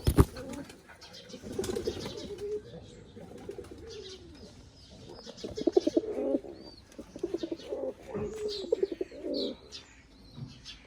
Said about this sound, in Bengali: আর এই হচ্ছে আমাদের ময়ূরপঙ্খী কবুতরগুলা,